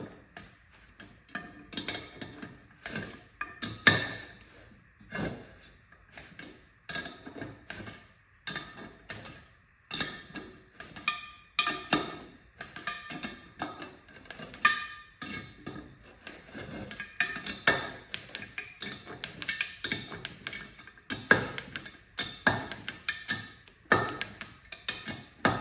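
Lug nuts on a Datsun's wheels are torqued down in a steady series of sharp metallic taps and clicks, close and moderately loud, with brief pauses between bursts as the wrench moves around the wheel.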